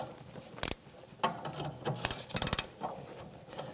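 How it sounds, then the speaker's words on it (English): An 18mm ratchet wrench works on a sway bar link nut on a 2008-2013 Nissan Rogue, giving close, irregular bursts of sharp clicking and metallic ratcheting with short pauses between strokes. "let's get a ratchet and see if we can ratchet wrench."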